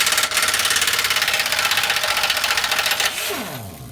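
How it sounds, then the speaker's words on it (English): A 3/4 inch impact wrench hammers on shock bolts on a Humvee, giving a fast, loud, continuous rattling burst for about three seconds that cuts off and leaves a brief whirring wind-down. "Does make it easier with a 3/4 impact though."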